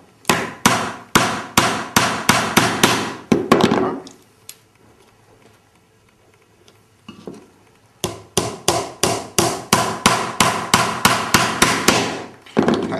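Rapid hammer taps on a bent nail in a wooden catapult frame, two close, loud bursts of quick sharp strikes separated by a few seconds of near silence.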